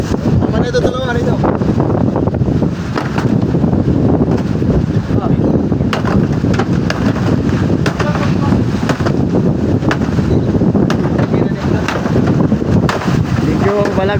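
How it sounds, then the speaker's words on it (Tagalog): Strong, steady north wind roars and buffets the microphone continuously, with rumbling water and the noise of a rocking boat underneath, near Infanta, Quezon. "Norte ang hangin ngayon mga idol, oh."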